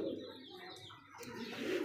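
Racing pigeons at a pigeon market coo in low, throaty bursts, steady and fairly close, with faint chirps layered over the cooing.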